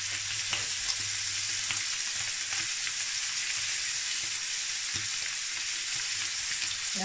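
Pork ribs frying in hot oil, a steady close sizzle with bubbling and occasional soft pops, running without a break and with no talking.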